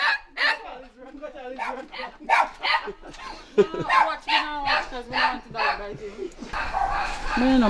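Small dog barking in short bursts, mixed in with someone talking in the street.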